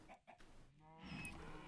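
Minecraft chickens clucking in a farm pen, a few short synthetic clucks close by, faint and with no one talking over them.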